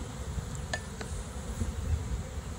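Honey bees buzzing around opened, checked beehives: a continuous low droning hum close by, with a couple of faint clicks over it and no talk.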